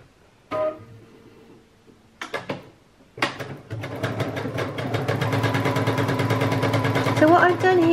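Sewairy 16 sewing machine stitching a dense buttonhole, with a few clunks and mechanical bursts before settling into a loud, continuous, rapid motor whir and rhythmic needle chatter.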